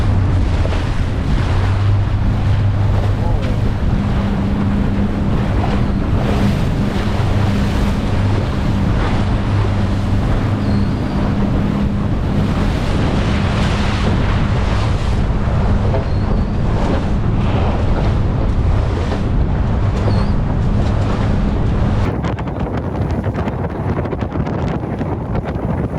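Storm wind buffets a MacGregor 26x trailer sailor amid crashing waves, loud and unbroken, with heavy wind rumble on the microphone and a low engine-like drone throughout.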